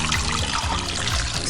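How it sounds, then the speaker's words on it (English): Water pours steadily into a cooking pot holding garlic cloves for a chicken miso ramen broth, a continuous close splashing trickle with no talk over it. "Now to this, we are going to add in some water."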